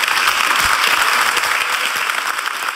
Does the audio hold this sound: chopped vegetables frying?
no